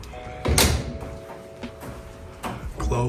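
Doors on a NewAge Bold 3.0 garage cabinet set in a small single-car garage shut with several separate thuds, one firm bang first and then lighter knocks, close by with no voices.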